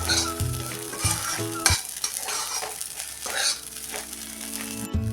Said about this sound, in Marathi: हे आता आपण चांगलं मऊ होईपर्यंत परतून घेऊया